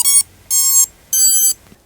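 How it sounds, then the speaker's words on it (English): A quadcopter's ESCs play their startup beeps when the battery is plugged in: three loud, close, high-pitched electronic tones, each about a third of a second long and separated by short gaps. "listen to the ESC startup beeps"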